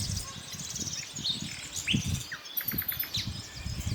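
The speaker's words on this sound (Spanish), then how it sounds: "Ruiseñor común." Common nightingale singing, a varied run of clear whistles and rapid repeated trilled notes over steady background ambience and faint insect noise.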